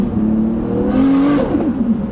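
Nissan R34 GT-R street build of about 600 bhp revving hard at full boost, a loud close engine whine climbing in pitch and then easing off, brief and without talk.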